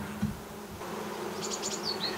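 Honey bees drone steadily on capped brood comb during a varroa-sensitive hygiene inspection, a low continuous buzz close by with a few brighter chirping tones rising above it late on.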